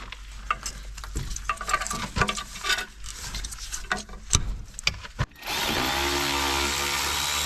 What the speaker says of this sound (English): Neutral drop in these ratchets helps quite a bit if you get it spinning.